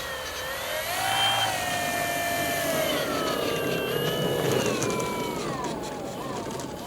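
An Avios Grand Tundra 2 electric RC plane flies overhead, its motor a whining buzz that rises and falls in pitch as it passes and banks, fairly close and steady over outdoor background noise.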